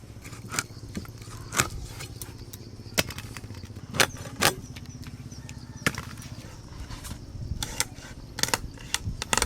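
Knife chopping through the hard bones of a large 7 kg pangas fish: sharp, irregular cracking strikes at close range, spaced a second or so apart over a steady background.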